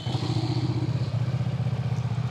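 A 300cc V-twin motorcycle engine starts and settles into a steady, smooth idle, with a low rhythmic throb close by and no other sounds.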